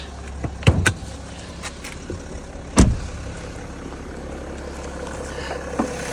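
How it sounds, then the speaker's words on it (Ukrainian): A 2008 BMW 530xd E60 with the 3.0-litre M57 diesel engine, 235 hp, runs at a steady low idle hum, with a few sharp clicks and taps over it. "Двигунчик просто працює, ну як краще, на швейцарський годинник"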